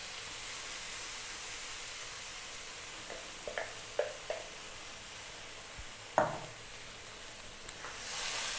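A spatula stirs a sauce of light soy sauce, sugar and tomato sauce through corned beef in a frying pan. A continuous hiss of sizzling runs under a few scattered scraping knocks, with a louder clack near the end.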